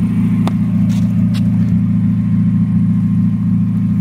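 A rental car's engine drones loud and close throughout a drift, a steady, heavy rumble with a few brief higher-pitched bursts near the start and no talking.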